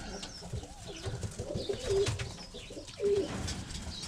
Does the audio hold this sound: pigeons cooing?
yes